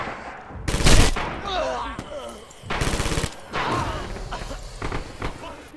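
Video game gunfire crackles in loud bursts of rapid shots, separated by shorter lulls, with a voice talking in between.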